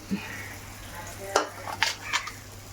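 Pappada vada, a papad fritter, frying in hot oil, with a soft steady sizzle broken by a few brief clinks and stirring scrapes of a utensil in the pan.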